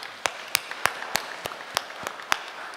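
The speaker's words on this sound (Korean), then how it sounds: "우리 박수로 주님께 영광을 드리겠습니다." A church congregation claps during a Sunday service, a steady, evenly spaced rhythm of claps that sound somewhat distant over a faint room hum.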